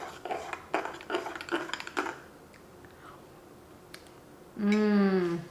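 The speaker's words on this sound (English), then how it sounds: "Okay, I'm just gonna mix it in a little bit" A spoon clinks and taps against a cup while stirring frothy creamer into pumpkin spice coffee, a quick cluster of light knocks that fades, followed by a short spoken remark.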